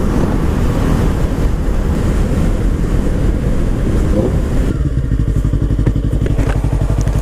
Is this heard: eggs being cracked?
no